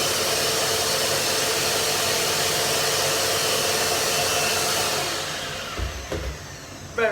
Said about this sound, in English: We switch it on, there's the hoover, nibs, and there, hoover suck it up, the nibs pulled out.